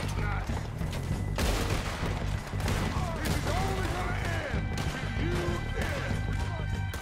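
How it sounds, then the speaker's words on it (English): Gunfire in the video game Red Dead Redemption 2, with repeated sharp shots and clattering impacts scattered across a busy shootout while a voice talks over the action. "Oh, Dutch is taking bullets too."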